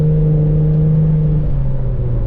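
A 2001 Plymouth Prowler roadster's engine revving when given gas, a close, loud steady drone with a strong low hum that dips slightly partway through, with no voices.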